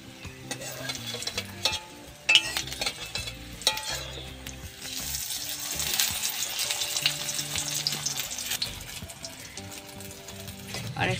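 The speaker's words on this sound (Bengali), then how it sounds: "এইভাবে আমি সব পাতুরিগুলো ভেজে নেব।" Masoor dal paturi wrapped in pumpkin leaves fries in hot oil with a constant bubbling sizzle that swells louder midway, while occasional clicks and scrapes of a utensil sound close by.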